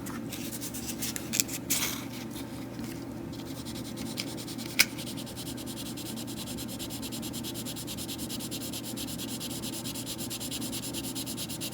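Sandpaper worked by hand over a plastic 1:12 Tamiya Yamaha YZF-R1M model fairing, used wet: a soft, steady close-up rubbing with faint scratchy strokes and a single brief click.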